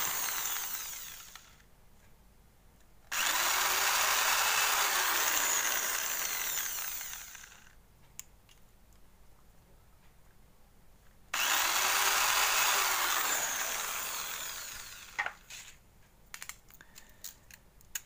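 Power drill boring holes in ice cream sticks, whining loudly in two long sustained bursts with quieter pauses and small clicks and handling noises between them, close by.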